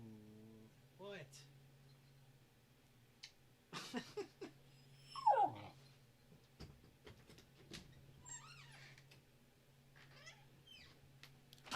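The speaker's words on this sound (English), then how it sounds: "my dog's crying outside my door" A dog whimpers and cries outside a door, giving several short, thin whines at scattered intervals, faint and set against a low steady hum.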